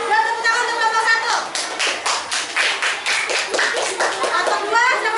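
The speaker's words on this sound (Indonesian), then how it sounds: "tepuk tangan untuk kelompok 1" Children in a classroom clap for a presenting group, a rhythmic run of unison claps in the middle, framed by a teacher and kids talking before and after.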